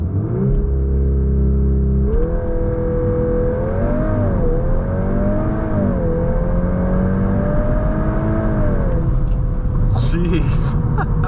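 A VW MK8 Golf R launching hard with launch control, engine droning loud and close as the pitch climbs through the gears with brief dips at each shift, ending in a short burst of voices.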